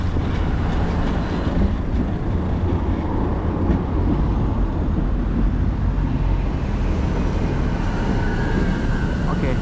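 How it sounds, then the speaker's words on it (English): Steady, dense traffic noise from a busy city intersection and public transport hub with buses and trams, a continuous roar of engines and rolling wheels with no single vehicle standing out. "I see many buses, many trams."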